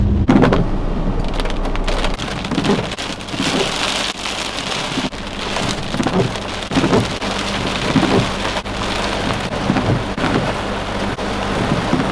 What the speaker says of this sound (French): Franchement il pleut sacrément.